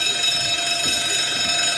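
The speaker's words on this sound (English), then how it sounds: "the alarm will be the continuous ringing of bells." A steady, continuous electric alarm bell rings loudly without pause in an industrial maintenance building, a bright sustained metallic tone that never breaks.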